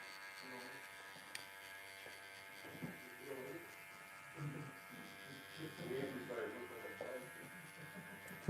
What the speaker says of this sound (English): let's start with these, old school E-clipper